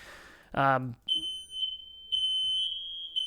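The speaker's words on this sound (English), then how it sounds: "as my fire alarm goes off" A home smoke alarm sounds a steady high-pitched beeping tone that runs on and off through the whole stretch, after a brief burst of a man's speech at the start.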